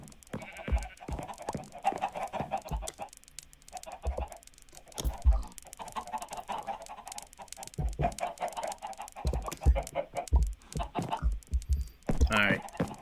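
Chickens cluck in the Minecraft video game (Windows 10 Edition), with short repeated bird calls scattered across a busy game soundscape and someone talking over much of it.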